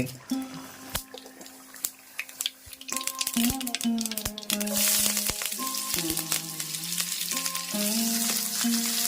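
Shallots and curry leaves fry in coconut oil in a frying pan, giving a steady close sizzle and crackle that builds and holds, with a few sharp pops and light stirring clinks.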